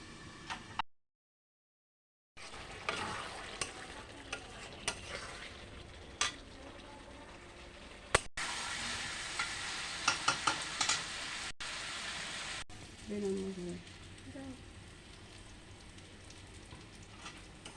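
Country chicken for a curry fries and is stirred in a pot, a soft sizzle with scattered utensil scrapes and taps, broken by a brief silent gap and a few faint tonal sounds near the end.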